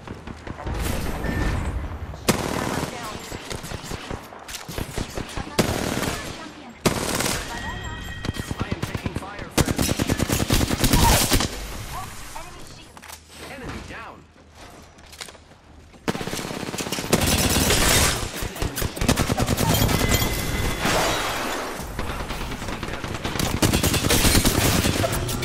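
Rapid automatic gunfire in Apex Legends during a Pathfinder match, loud bursts of rattling shots coming in long volleys with short gaps, close and dense.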